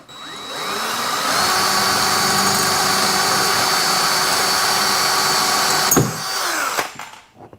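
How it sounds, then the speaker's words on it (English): A power drill bores loudly and steadily through a bar to make room for a USB cable, running nearly seven seconds before stopping abruptly, then a brief clatter and a short whir as it winds down. "So I gotta get this drilled out now."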